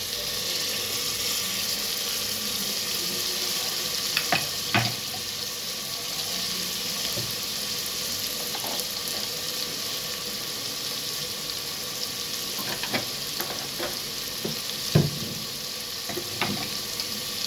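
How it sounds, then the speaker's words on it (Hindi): Achar gosht masala and green chillies fry and get stirred in a pan, a steady close sizzle with occasional sharp scrapes and clicks of the spoon throughout. "मसाले हमारे भुनने लगे"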